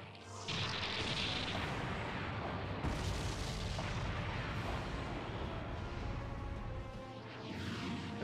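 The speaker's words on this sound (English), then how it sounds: "Kind of annoys me how like grandiose a Leo's explosion is" A Leo mobile suit blows up in the video game SD Gundam G Generations Crossrays, with a loud sustained blast and rumbling debris roar that fills the scene for several seconds before easing off.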